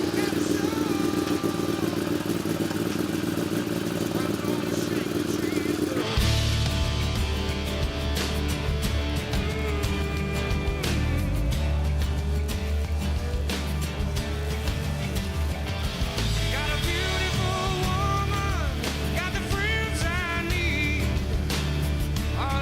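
An engine runs on a dynamometer for a Hawk Speed build, a steady loud drone with harmonic bands that kicks in abruptly after a quieter opening and holds throughout, with rising revving sweeps and mechanical clatter near the end.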